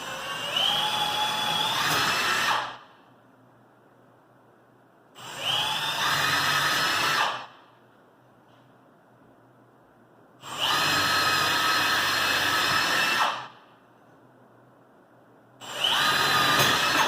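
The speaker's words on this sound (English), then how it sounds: "I'll drill my holes, set this board on, drill those holes" Power drill boring holes in truck bed slider boards, four loud sustained bursts of whining motor and bit cutting through wood, separated by short quiet pauses, close up with no talking.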